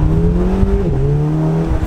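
A Volkswagen Golf GTI pulls away with a loud, close engine note that climbs, dips briefly at a gear change, then keeps pulling.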